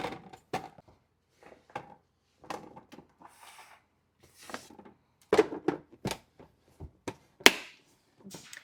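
Vegetables are chopped with a knife on a cutting board in a home kitchen, making sparse, irregular taps and thuds with quiet gaps between them.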